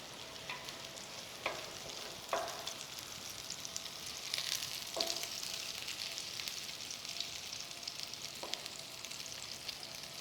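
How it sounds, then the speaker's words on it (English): Vegetable fritters with cheese sizzle in hot oil, a steady crackling fry broken by a few soft clinks and scrapes, fairly quiet and without talk. "So you have to fry them down until they get golden brown"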